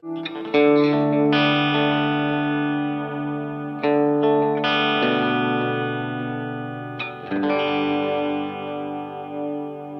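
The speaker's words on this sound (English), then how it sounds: "If you don't know what delay is, it's basically like an echo, and it's like a repeating of whatever you just played" Electric guitar played through a Boss RV5 and a delay pedal, sustained chords ringing out with echoing repeats trailing behind each strum, a few separate phrases over ten seconds, heavily effected, close and alone without talk.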